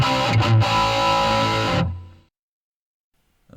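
A distorted electric guitar through a Boss effects pedal and a real amp rings out thick and gritty for a couple of seconds, then cuts off abruptly into silence.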